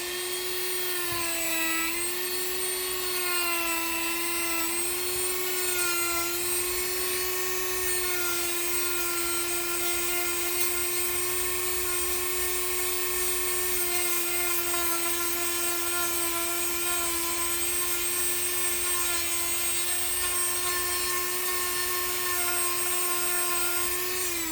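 Dremel rotary tool carving deadwood on a hornbeam, a steady high-pitched motor whine with a grinding, rasping edge, close and continuous throughout with no voices.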